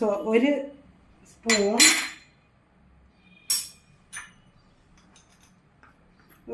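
A spoon stirs pumpkin curry (mathanga pulinkari) in a metal cooking pot, making a few scattered metallic clinks and scrapes separated by quiet pauses.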